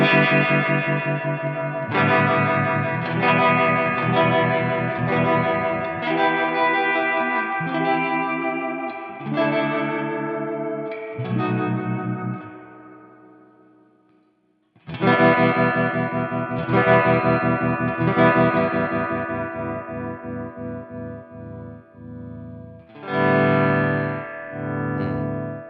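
Electric guitar played through a Crazy Tube Circuits White Whale V2 reverb and tremolo pedal at full intensity, with sustained chords swelling under heavy pulsing modulation and long reverb tails, a pause, then more strummed chords, loud and alone without talk.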